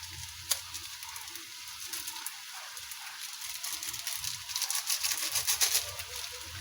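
Food sizzles and fries in a pan with pepper added, a steady crackling hiss filling the clip while a utensil stirs, with scraping and bubbling growing louder toward the end.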